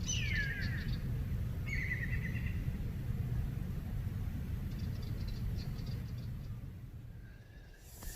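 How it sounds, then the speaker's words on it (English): A morning chorus of birds at an overnight paddling camp along the Katarapko Loop, with a few distinct chirps and calls near the start and end over a steady low outdoor rumble. "I've just been woken up by a chorus of birds"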